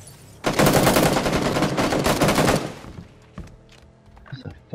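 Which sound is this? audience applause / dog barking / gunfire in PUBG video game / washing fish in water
gunfire in PUBG video game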